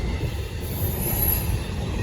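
A Norfolk Southern freight train of double-stack and spine cars rolls past close by, a steady, loud rumble of rail noise with a thin high wheel squeal on top.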